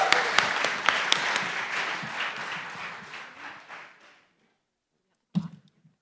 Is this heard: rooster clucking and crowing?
no